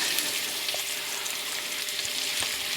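Shrimp sizzling in a medium-hot pan for garlic butter shrimp fettuccine alfredo, a constant close frying hiss with small crackles running evenly throughout.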